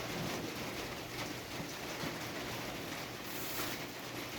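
Rain falls outside in a steady, even wash of noise, faint and distant, with no speech over it.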